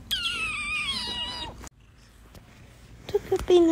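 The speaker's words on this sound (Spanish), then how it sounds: "tengo un gato peludo" A fluffy cat meows in a drawn-out, wavering cry lasting about a second and a half, close and fairly loud, followed by a quiet pause and then a few short, faint sounds near the end.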